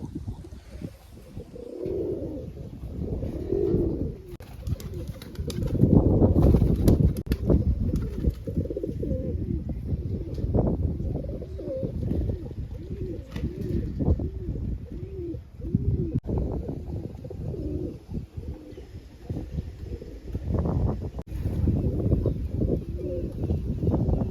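Pigeons coo up close in steady, repeated rolling calls, joined by occasional wing flaps, with people talking at times over the birds.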